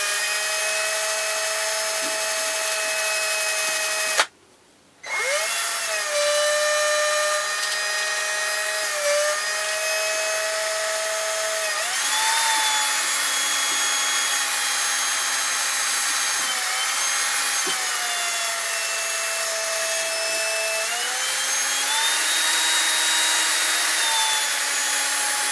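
Hand drilling through a wooden stem for a long bushcraft pipe, a steady near grinding, rubbing tone that runs continuously with a short pause early on, shifting slightly in pitch as the work proceeds.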